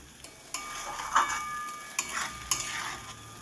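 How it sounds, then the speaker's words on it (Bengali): Tomatoes and capsicum fry with masala in a pan, giving a soft steady sizzle with several sharp scraping stirs and light utensil knocks spaced through it, no talking. "এই মশলার সাথে ভালো করে নেড়ে চেড়ে মিশিয়ে আমি চার থেকে পাঁচ মিনিট এটা ভালো করে কষিয়ে নেব"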